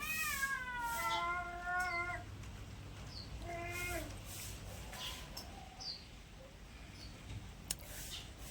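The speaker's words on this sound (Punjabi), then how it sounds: "ਇੱਥੇ ਆਪਣੇ ਨਿੱਕੇ ਨਿੱਕੇ ਬਲੂੰਗੜੇ ਨੇ ਬਿੱਲੀ ਸੂਈ ਇਹ ਹੁਣ ਦੁੱਧ ਮੰਗਦੇ ਨੇ" Newborn kittens mewing for milk: several high, thin meows come close together in the first two seconds, then another short run around the middle, up close over a faint background hiss with no talking.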